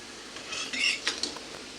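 Eggs are lowered one at a time into a pot of oil-splashed water with a spoon for boiling in an egg curry. A few soft, quick metallic clinks and taps sound close by, with no talk.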